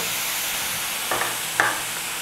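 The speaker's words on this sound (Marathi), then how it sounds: "तर हे दोन्ही आता आपण मंद गॅसवर परतून घेऊया।" Grated fresh coconut and jaggery stirred in a kadhai over low gas, a steady soft sizzle with two brief scraping strokes of the spoon partway through, close and alone without talk.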